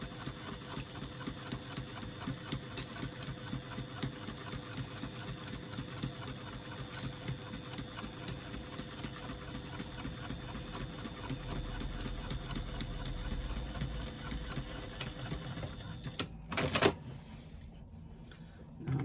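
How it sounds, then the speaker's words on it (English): A sewing machine stitching a lining to a facing panel runs in a steady, fast mechanical whir, faint and continuous for most of the stretch before stopping near the end. "Stitch across to join the lining to the facing panel using a 3/8 of an inch seam allowance."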